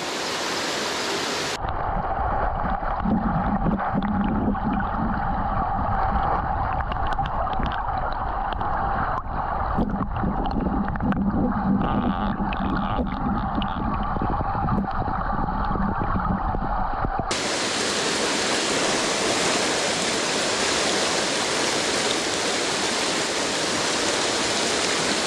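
Fast, high-volume mountain river rushing loudly in a steady, dense roar of water, heard close up with no pauses, on a Hokkaido trout-fishing trip reached by mountain bike.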